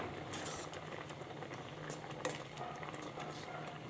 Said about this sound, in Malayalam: ഇപ്പോൾ തേങ്ങാക്കൂട്ടൊക്കെ നന്നായിട്ട് തിളച്ചിട്ടുണ്ട്